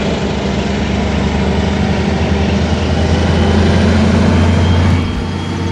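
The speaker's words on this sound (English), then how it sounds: "You can hear the train." A train passing close by at Mission San Juan in San Antonio, a loud, continuous low rumble and roar that holds steady for several seconds, then eases slightly near the end.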